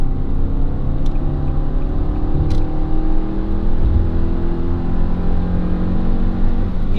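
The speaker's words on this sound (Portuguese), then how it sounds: "Estou a 60 por hora, vamos botar a terceira e pisar tudo." A Fiat Argo Trekking 1.3 with manual gearbox accelerates hard in third gear from about 60 km/h, its engine droning loud and steady with a rising whir. No one talks.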